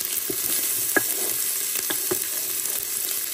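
Onions frying in extra virgin olive oil, an even, moderate sizzle running throughout with a few light stirring scrapes and taps, close and steady.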